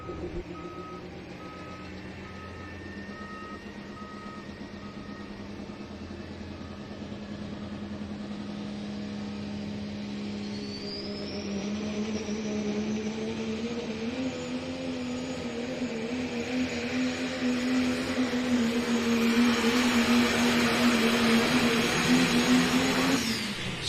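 Second-generation Cummins diesel pickup pulling at an NTPA truck and tractor pull in Sandwich, Illinois: a steady loud engine drone that builds and rises in pitch over the run, with a long whistling turbo whine climbing on top.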